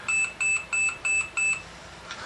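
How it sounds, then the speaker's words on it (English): A pager in a film beeps five times in a quick, even rhythm, short bright electronic tones, then falls quiet against a faint background. "bitch got a beeper"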